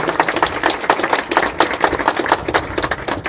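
An audience claps through an inauguration at a Xochimilco cultural centre, a brisk, dense run of hand claps at a steady rhythm, fairly close and even in loudness, with no voices over it.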